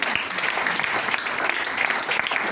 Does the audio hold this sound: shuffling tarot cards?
no